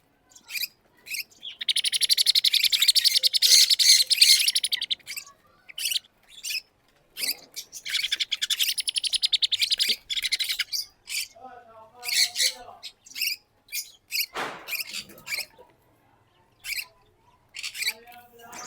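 Sun conure chicks give loud, rapid high-pitched chirps and squawks during hand feeding, in long bursts broken by short pauses, close to the microphone.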